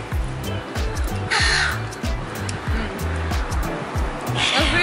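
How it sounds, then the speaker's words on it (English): Seagulls call at a South Australian seafront on the Eyre Peninsula, loud repeated harsh squawks in quick succession over steady surf and wind, with faint talk in the background. "We're having a serious seagull invasion, so we're going to eat quick"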